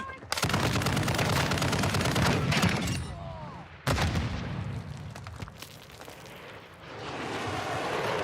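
Sustained automatic gunfire from Call of Duty Modern Warfare II (2022), loud, dense bursts of rapid shots with a sharp crack midway, then sporadic shots over a rumbling, washy game ambience.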